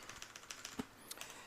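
Typing on a computer keyboard while writing HTML from scratch: a quick run of light, irregular key clicks at close range, with one slightly heavier keystroke partway through and no talking.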